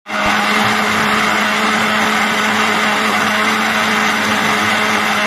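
An electric grinder runs continuously, whirring loudly and steadily as it grinds sesame seeds with oil in a home kitchen, an unbroken motor drone with no talk.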